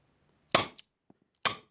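Tanaka S&W Model 36 Ladysmith airsoft revolver fires BBs, two sharp, high-pitched cracks about a second apart with a faint click between, close and loud in a quiet room.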